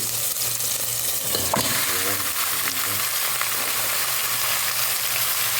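Chicken wings sizzling steadily in a hot pan while being sautéed for sinigang, a continuous loud frying hiss with a few stirring clinks and no talk.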